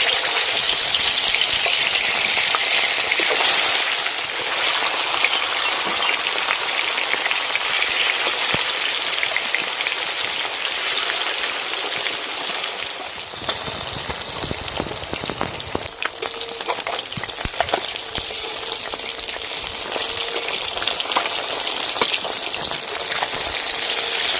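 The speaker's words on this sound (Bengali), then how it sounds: "তেল ভালো করে গরম করে নিয়েছি, এবার মাছগুলো দিয়ে দেবো।" Fish pieces frying in a kadai of hot oil for a Bengali river fish curry give a steady, loud, dense crackling sizzle that runs throughout, briefly dipping and then resuming, with no talk over it.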